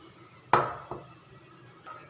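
A kitchen bowl is picked up and set down, producing one sharp, fairly close clink followed by a lighter knock and then a faint tap, with quiet room background between them.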